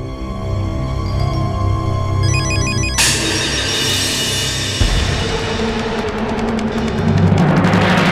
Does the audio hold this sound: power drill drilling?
no